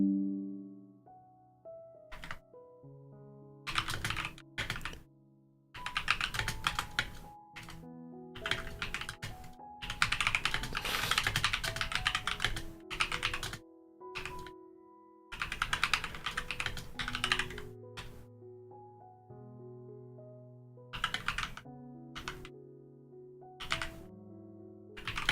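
Typing on a computer keyboard, bursts of rapid clicking keystrokes separated by short pauses, with a few isolated key presses between runs, close and clear over a faint background tone.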